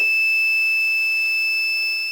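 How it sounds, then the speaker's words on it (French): An infrared beam barrier alarm gives a steady, continuous high-pitched electronic tone, clean and unbroken for its whole length, with no voices. "ça va déclencher une alarme"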